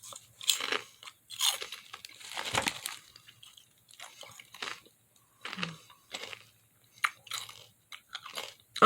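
Crunchy pickles being chewed close to the mic: a run of crisp, wet crunching bites in uneven bursts with short pauses between them, and no talking.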